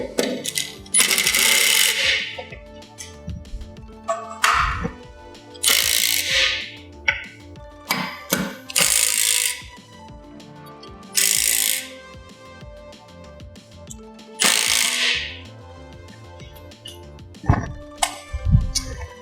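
Metal TV wall mount bolts being tightened while hanging a 75-inch television, giving repeated bursts of ratcheting and scraping with sharp metallic clinks in between, close by and with no talk.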